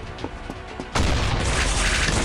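A shotgun fires in the mobile shooter game Combat Master: after a quieter stretch with a few soft clicks, one loud blast erupts, followed by sustained dense, harsh noise to the end.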